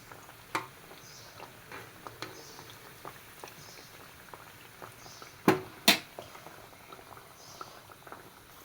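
Small rounds of sweet wheat-flour snack dough frying gently in oil over a low flame, a soft steady bubbling with scattered faint pops and two sharper crackles near the end, no talk.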